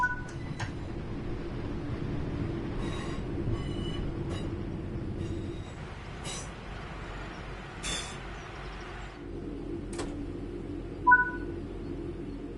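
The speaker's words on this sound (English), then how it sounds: "Now that the train has stopped," Train in Train Simulator at a London station braking to a stop, a low rolling rumble under bursts of air brake hiss and faint squeals, easing off as it halts.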